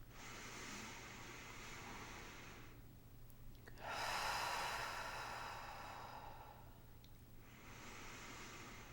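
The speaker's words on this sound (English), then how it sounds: "take 3 nice deep breaths with me" Slow deep breathing during a guided meditation: two long, soft airy exhales separated by a quiet pause, steady and close, with no talking.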